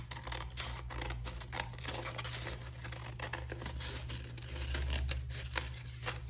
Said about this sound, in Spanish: vamos a recortar por todo el escote